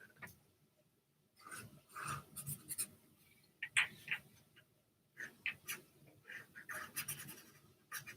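Pen lettering words onto an ink drawing on paper, short scratchy strokes in irregular bursts separated by brief pauses, close and quiet with no talking.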